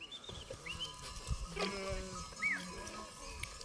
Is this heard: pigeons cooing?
no